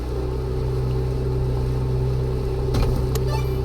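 An offroad vehicle engine in the Offroad Mechanic Simulator video game holds a steady, loud mid-pitched drone throughout, with a brief rise and some rattling bursts near the end.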